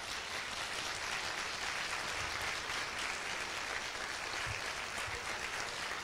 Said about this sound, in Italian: facciamo un applauso a Lorenzo Pinna subito.